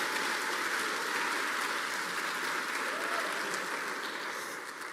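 Steady, full applause from a church congregation during a sermon, a dense hiss of many hands that holds even and loud before easing slightly at the end.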